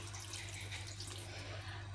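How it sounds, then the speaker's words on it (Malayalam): A thin, steady stream of water runs continuously for a couple of seconds into a pan of crab roast, soft and close, with no talking. "നമുക്ക് കുറച്ച് വെള്ളം ഒഴിച്ച് കൊടുക്കാം കേട്ടോ വളരെ കുറച്ച് മതി"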